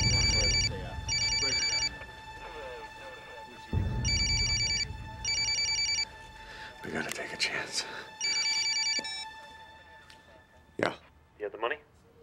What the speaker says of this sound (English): It's Alexis's phone